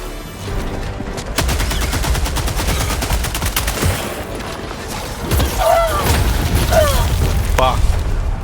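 Orbital strike explosions mixed with heavy machine-gun bursts on a Helldivers 2 battlefield, a loud continuous barrage of booms and rapid fire with short whistling sweeps near the end, and voices partly under the din.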